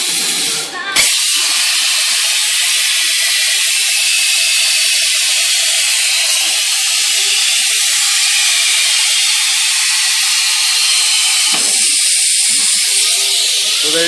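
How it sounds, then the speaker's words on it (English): A Plasma Cam CNC plasma cutter cutting circles in metal produces a loud, constant roaring hiss that begins abruptly and continues unbroken, with a brief change in tone near the end. "We're cutting out bad circles."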